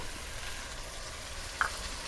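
Ginger-garlic paste hitting deep-red fried onions in hot oil for a Bengali rui fish curry, giving a steady soft sizzle with a brief louder spatter near the end.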